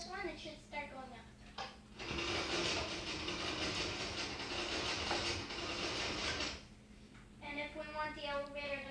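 A Minecraft elevator moving upward in the video game, a steady dense mechanical rumble lasting several seconds between stretches of someone talking, fairly quiet overall.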